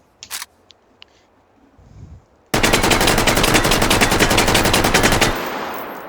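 An AK5c rifle in the VR game Hot Dogs, Horseshoes and Hand Grenades fires one loud, rapid full-auto burst of about three seconds, preceded by a few sharp handling clicks and a brief shot.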